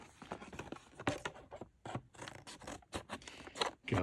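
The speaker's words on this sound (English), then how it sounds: "Cue old pair of scissors to get this open." Scissors snip and crunch through tough, tightly sealed plastic blister packaging, a close series of sharp irregular cuts and scraping crackles with brief pauses between strokes.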